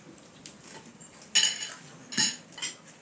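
Cutlery clinks and scrapes against dishes during a meal of whole roast lamb in a colourful organic marinade, with two sharper clatters standing out among softer taps, close and fairly quiet.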